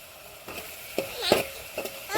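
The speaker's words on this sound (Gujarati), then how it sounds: "અને હવે એને સરસ મજાનું હલાવી નાખવાનું છે" Vasedi bhaji greens cooking in a pan with cumin, turmeric and crushed garlic chili, stirred in a few separate scraping strokes over a low, continuous sizzle, close up.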